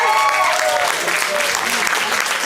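A crowd at a camp opening ceremony cheers and applauds steadily, dense clapping with whoops and shouts, loud and close throughout.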